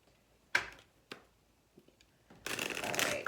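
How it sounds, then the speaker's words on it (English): Tarot cards are handled and shuffled close by, a couple of sharp flicks and small taps, then a longer continuous riffling shuffle at the end, with no talk. "Oh, I'll put the cards back."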